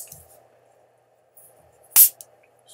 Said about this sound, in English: I'm just going to open them up right away and start doing a taste comparison